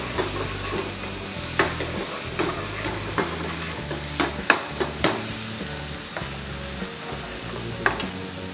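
Chilli paste being stirred into chicken brown corn soup in a pan, with a steady run of spoon scrapes and clinks against the metal over a low sizzle and some background music.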